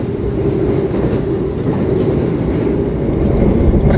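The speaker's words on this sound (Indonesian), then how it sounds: "Perjalanan kereta Argo Merbabu yang saya naiki sudah berjalan" The Argo Merbabu passenger train runs along double-track rails in Indonesia, a steady loud rumble and rattle of the carriage from inside, continuous throughout with no talk.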